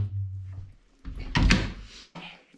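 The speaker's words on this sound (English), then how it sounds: "I got my little door right here." A small room door swings and bumps shut with a close, muffled knock and a short rattle, in a compact lodging room in Bolivia.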